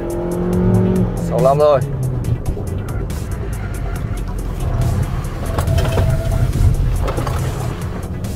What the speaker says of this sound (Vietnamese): chúng ta rõ ràng có thể nghe thấy tiếng rít lốp lớn hơn